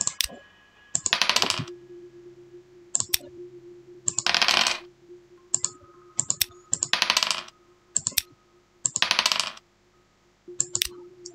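Dice in the Bad Dream: Coma video game clatter in repeated short bursts, six or so separate rolls of rapid clicking rattles spaced a second or two apart over a low steady hum.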